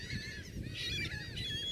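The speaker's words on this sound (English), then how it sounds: "Hear all those birds? A lot of birds out here." A flock of geese honks continuously in a dense, overlapping chorus, loud and close, with no talking.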